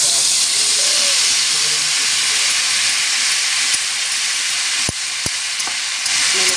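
Hot oil sizzles with a loud, steady hiss, broken by a few sharp pops and crackles from mustard seeds spluttering in the pan.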